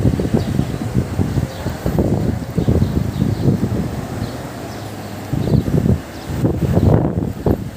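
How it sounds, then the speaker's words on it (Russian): Gusty summer wind in Tbilisi, Georgia, buffets the microphone in loud, rumbling bursts that rise and fall, with brief calmer gaps between gusts and no talking. "Ветер."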